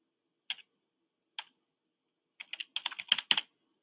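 Keys on a computer keyboard clack crisply in a quiet room: two isolated taps, a pause, then a quick burst of typing as text is entered.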